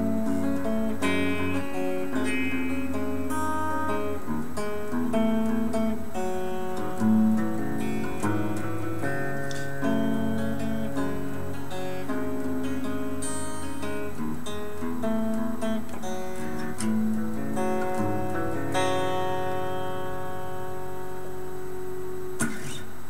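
Guitar playing a song intro, a fluid sequence of picked notes and ringing arpeggios at moderate volume, continuous and solo with no talking.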